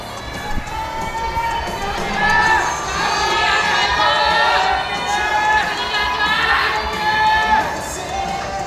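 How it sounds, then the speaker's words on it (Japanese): A crowd at a men's physique bodybuilding championship, West Japan 2023, cheers loudly for the winners. Shouts and voices swell repeatedly over a constant roar of the audience, with an announcer speaking. "4名のチャンピオンに大きな拍手を送りください"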